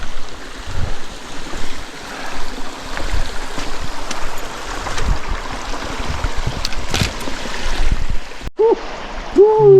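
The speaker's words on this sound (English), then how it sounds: "Creek crossing." A mountain creek crossing on a trail rushes with continuous, fairly loud flowing and splashing water close by, with brief bursts and a short tonal sound near the end.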